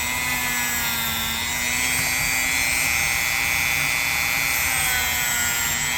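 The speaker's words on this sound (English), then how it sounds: "let me get the Dremel out. Okay, just going to start with touching these tangs up a little bit." A Dremel rotary tool whines steadily and loudly while touching up the tangs of an Imperial Frontier lockback pocketknife, a high sustained spinning tone that rises slightly in pitch partway through, with no talk over it.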